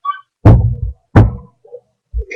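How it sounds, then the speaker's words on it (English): Two solid knocks on a door, spaced about half a second apart, each a close, heavy thunk with a short ringing decay, followed by faint softer sounds. "By the next week, he knocked on my new office door."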